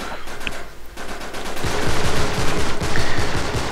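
Rapid video game gunfire crackles in dense bursts, a pistol and other weapons popping repeatedly at close range, loud and continuous through the moment.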